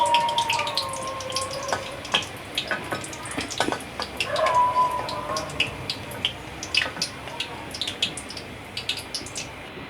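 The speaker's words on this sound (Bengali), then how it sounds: "ভাজাটা হয়ে আসছে দেখুন" Small kachki fish fritters (tikia/bora) sizzle and crackle in hot oil, steady frying noise with scattered pops and a faint background hum, no talking.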